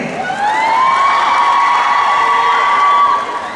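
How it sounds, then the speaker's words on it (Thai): Thai fans cheering and whooping at a singer's debut single launch event, a loud sustained crowd roar with high shouts rising above it throughout. "ปรบมือหน่อยสิ"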